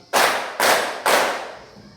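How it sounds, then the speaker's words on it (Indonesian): A classroom of pupils claps in unison three times, each loud, crisp group clap ringing out briefly before the next, evenly spaced, with no talking. "Tepuk 3 kali"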